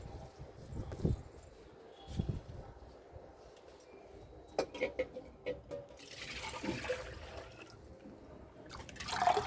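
Rice-washing water is poured onto garden plants, including a flowering brinjal plant, giving soft, uneven splashing and trickling in several short bursts, with a longer steady pour toward the end, fairly faint and close.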